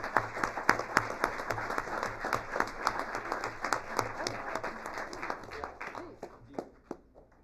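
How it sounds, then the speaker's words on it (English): An audience at a Sierra Madre city council meeting applauds, a steady patter of many hands clapping in a room that fades out near the end, with faint voices underneath. "let's give a special round of applause to Mr. Meek"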